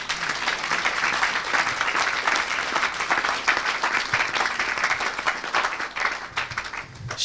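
A church congregation applauds Jesus during a deliverance service, dense sustained clapping from a large crowd filling the room throughout, loud and close with scattered cheers.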